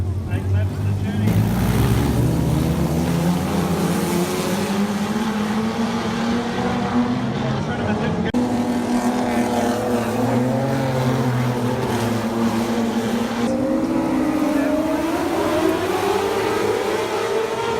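Wingless sprint cars racing a heat at Collie Speedway in Western Australia, engines roaring loud and continuous with rising and falling revs as the pack passes, a track announcer's voice running over them.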